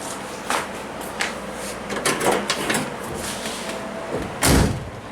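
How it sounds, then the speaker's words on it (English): A door is worked back and forth, with scraping and knocks, ending in one heavy, close slam. "that door sounds good when it slams"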